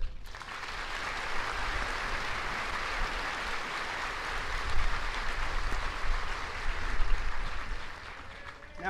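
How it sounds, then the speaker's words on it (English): A crowd at an Army basic training graduation at Fort Jackson applauds its cadre, a broad, sustained wash of clapping that swells slightly midway through and continues for about nine seconds without voices. "So please join me in a round of applause for my cadre."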